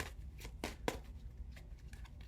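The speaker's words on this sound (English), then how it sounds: "I guess the cards are going to pop out, so we're just going to have to break the shuffle" Tarot deck shuffled by hand, close and quiet, with soft papery riffles and sharp slaps of cards falling into place at an uneven rhythm, no talking.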